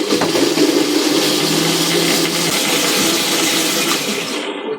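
An electric blender runs steadily, grinding chilies with salt for a homemade mayonnaise-style sauce, a loud continuous whirring roar that holds for several seconds before dropping off at the end, with no talking.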